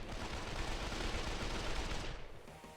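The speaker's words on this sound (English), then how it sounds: "gunfire. probably." Rapid video game gunfire during a final boss fight, a dense rattling volley of shots that holds steady and then thins out near the end, with no speech over it.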